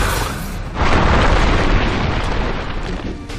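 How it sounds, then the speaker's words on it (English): A mid tower collapsing in Dota 2 gives a heavy booming blast with a crackling, rumbling roar that fills the mix for several seconds, loud and close. "Your middle tower has fallen."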